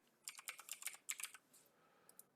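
Quick bursts of clicky keystrokes on a computer keyboard, close but quiet, a rapid run of taps followed by a pause and a couple of stray presses.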